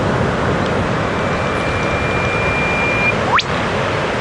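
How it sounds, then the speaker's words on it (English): An eastern whipbird in tea tree scrub gives its call: a long thin whistle followed by a sharp upward whip crack, heard clearly over a steady roar of background noise. "that's the sound of the eastern whipbird"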